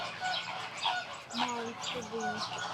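A white peacock letting out several short, nasal honking calls in quick succession, fairly close, with faint background voices.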